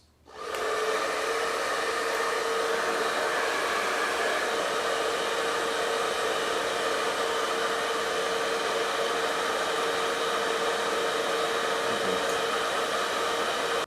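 Confu professional hair dryer blowing steadily at its first speed setting while heat levels are tested, a loud, close, unbroken airy whoosh with a faint motor whine that starts abruptly and runs on alone.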